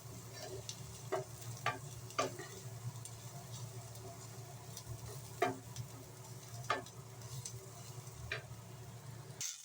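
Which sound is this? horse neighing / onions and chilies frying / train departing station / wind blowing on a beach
onions and chilies frying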